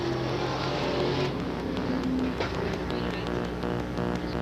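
Late model super stock race cars circle a dirt oval track during a caution, engines droning steadily at moderate volume with a passing roar midway.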